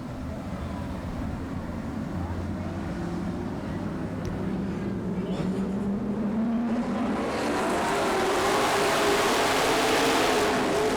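Race cars starting a dirt track heat race, a steady loud roar of engines whose pitch climbs and swells as the pack accelerates away from the green.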